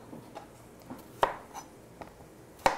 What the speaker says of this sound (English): we're going to cut it into lovely chunks